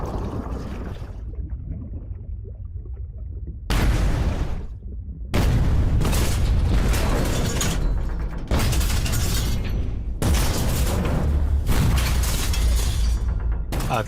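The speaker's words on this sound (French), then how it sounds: "Le vaisseau blessé libère alors ses grenades sous-marines." Depth charges from a wounded warship explode underwater in a WWII submarine battle, a run of loud, heavy booming blasts with rumbling, shattering roar, separated by brief lulls, no voices.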